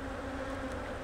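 Honeybees buzz at a hive feeder dispenser, a faint, steady close hum of wings lasting about a second.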